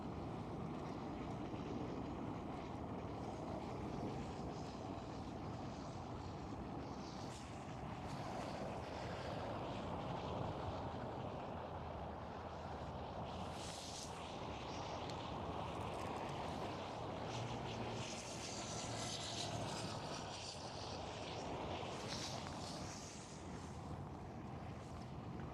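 A large Oman Air Boeing 747 turns onto the center runway at Amsterdam Schiphol, its engines producing a steady, broad jet roar that holds for the whole span under gusty wind noise on the microphone.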